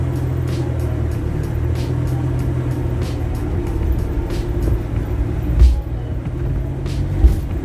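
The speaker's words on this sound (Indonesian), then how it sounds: "mesinnya masuk ke kabin, jadi berisik banget" Engine of a Mitsubishi Jetstar car heard from inside the cabin while driving: a steady, loud low rumble that fills the cabin, with a couple of brief thumps from the road near the end and no talking.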